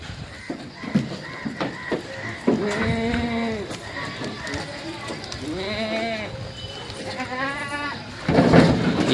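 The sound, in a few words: Kathiawadi goats bleating while being loaded into a vehicle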